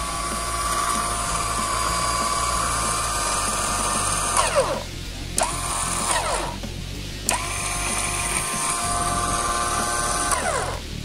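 A 12-volt electric buffer polishing machine whines at a high, steady pitch, switching off twice and winding down before spinning back up each time, loud and close with no talk.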